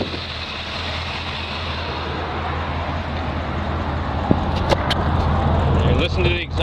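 A 1955 Chevrolet Bel Air hardtop's engine idles with a continuous low rumble, joined near the end by a few sharp clicks and brief squeaky tones.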